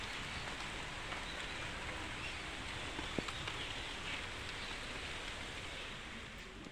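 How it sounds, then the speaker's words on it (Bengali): Rain falls outdoors in a garden with lemon trees, a soft, even patter and hiss heard faintly and continuously with one or two louder drips and no talk. "খুব সুন্দর ওয়েদার, একদম বৃষ্টি বৃষ্টি চারিদিকে"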